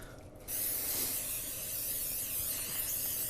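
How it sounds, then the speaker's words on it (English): Cooking spray hisses from a can into a muffin tin in a home kitchen, starting after a brief pause and continuing as a steady, close, unbroken spray for about three seconds. "spray them down real good."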